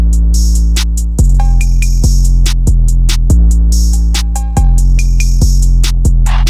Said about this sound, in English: listen to how crazy these drums sound